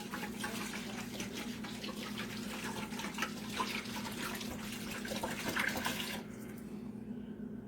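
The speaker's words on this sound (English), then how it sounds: "make sure you pour enough in there to cover it several inches" Alcohol being poured into a pot over cannabis bud, a steady close splashing liquid stream that runs for about six seconds before stopping abruptly.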